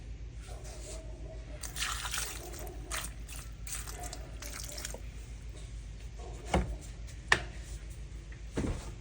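Chicken feet being rinsed with white vinegar and water at a kitchen sink, steady trickling and splashing with a few sharp drips and clinks near the end.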